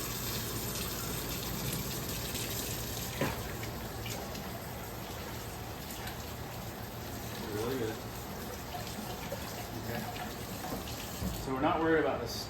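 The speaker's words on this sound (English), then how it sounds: "So first we're going to rinse it off in cool water." Cool tap water runs steadily while leaves are rinsed under it, a close hiss of flowing water with faint splashes and patters, a voice speaking briefly over it.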